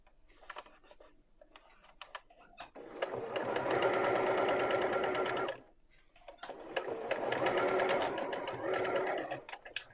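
A sewing machine stitches a fabric scrunchie with a tie, running in two long steady bursts separated by a short pause and preceded by a few brief clicks, close and fairly loud with no talking.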